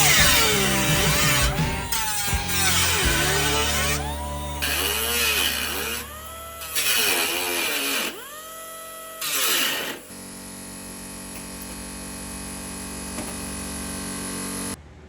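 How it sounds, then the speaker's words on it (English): A power rivet tool sets the last rivets on a box of a Landcruiser airbox, its motor whining and sweeping in pitch through several loud, close bursts before falling quieter. "Riveting on that last box, the last few rivets, and then this airbox is basically done."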